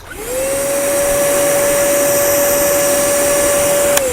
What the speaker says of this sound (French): en fait, ça fait le bruit d'un aspirateur